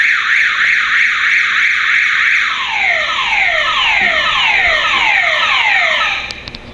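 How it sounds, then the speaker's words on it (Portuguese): A house alarm blares after someone enters without disarming it: a loud steady electronic tone that switches to rapid repeating downward sweeps and continues without pause. "Alguém entrou na casinha sem desativar o alarme."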